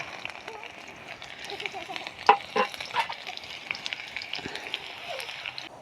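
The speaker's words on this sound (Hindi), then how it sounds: "अब हम कटी हुई लहसुन की कलियों को भी भून लेंगे।" Chopped garlic cloves fry in a kadai, giving a soft, close sizzle with occasional stirring scrapes and light crackles, fairly quiet and continuous.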